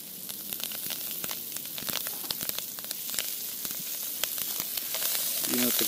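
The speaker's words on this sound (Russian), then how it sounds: "Вот, обжарили мы чесночки. Теперь добавляем петрушку." Garlic and parsley sizzling in a pan over a Shmel primus stove outdoors, a steady close frying hiss with scattered sharp pops and crackles throughout.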